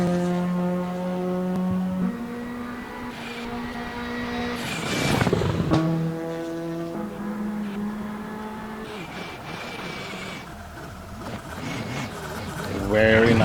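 A rally car on a Mecsek Rally stage in Hungary, its engine droning in stepped gear changes, roaring loudly through a hairpin, then revving away into the distance, with talk running over it.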